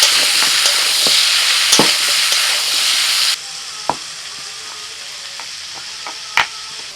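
Soaked chickpeas frying with pumpkin in a pan give off a steady bright sizzle, with a few sharp stirring clicks scattered through it; the sizzle drops to a quieter hiss partway through.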